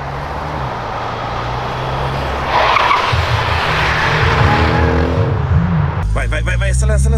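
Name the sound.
Jetta TSI Stage 3 drifting, tires skidding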